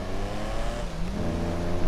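Engine of a Benefactor Stirling GT, a classic Mercedes-style sports car in GTA Online, holding a steady, loud idle rumble with a slight rev toward the end, close and alone with no talk.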